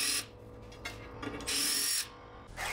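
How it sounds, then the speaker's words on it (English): A 12/24 tap driven with screw wax into pilot holes in a salvaged aluminum plate, loud whirring bursts from a power tool starting and stopping in short runs. "I use screw wax on a 12/24 tap to quickly thread those 6 pilot holes"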